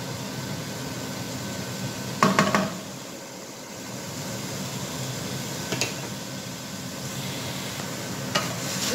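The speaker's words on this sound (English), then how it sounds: "In a pan, we're gonna put a bacon. And we're gonna turn on the fire." Bacon sizzles in a pan over a gas flame, a steady dense crackle running throughout, broken by a few sharp knocks of utensils against the pan.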